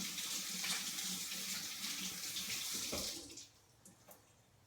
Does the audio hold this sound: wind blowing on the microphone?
no